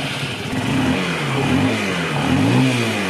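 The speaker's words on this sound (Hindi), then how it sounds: "बाइक फाइनली स्टार्ट हो गया।" A Honda Shine 125 motorcycle engine running right after starting without choke, a close, steady mid-pitched hum with gentle rises and falls in revs, loud and alone.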